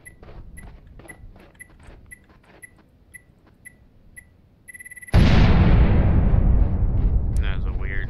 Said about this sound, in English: That was a weird lackluster explosion, and the fucking bomb is still here.